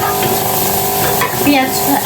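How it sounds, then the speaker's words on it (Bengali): Onion, garlic and chillies fry and sizzle loudly and steadily in a pan, with brief stirring scrapes near the close. "পেঁয়াজ আর হচ্ছে আপনার রসুন ভাজা ভাজা হয়ে আসছে, মরিচও দিয়ে দিলাম।"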